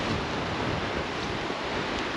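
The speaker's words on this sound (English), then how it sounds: "God, it's a cold wind." Cold wind blowing beside the River Prosen in Scotland, a steady loud broadband rush with no gusting breaks, close to the microphone and alone.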